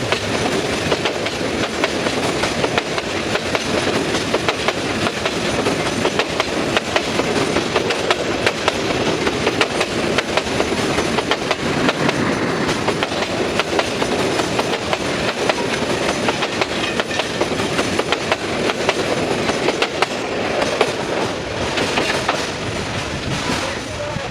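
Loud, continuous rumble of a train rolling past close by in Sreemangal, Bangladesh, with rapid rhythmic clatter of wheels on the tracks throughout.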